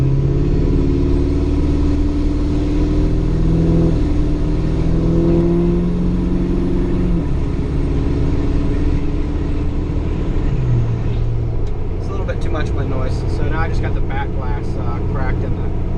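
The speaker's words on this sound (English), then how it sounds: "you can really hear the turbo actually whistling more with this setup than a stock turbo" A Ford 6.7 Powerstroke diesel pickup with a non-VGT turbo accelerates with a loud, steady engine drone and a rising whistle, and a voice speaks briefly near the end.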